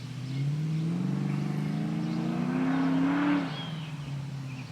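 A 1987 Landau car approaches along a residential street, its engine hum rising and growing louder, then passes close by and drops away into a lower, fading rumble, with no talking.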